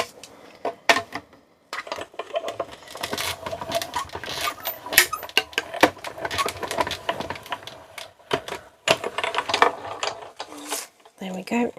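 A die cut machine cranks cardstock through its rollers, giving a loud, steady run of ratcheting clicks and mechanical rattles with brief pauses, close up and without speech.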